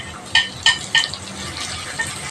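Tomatoes sautéing in a pan with a steady sizzle and a few sharp scrapes of a spatula stirring against the metal, close and alone without any talking.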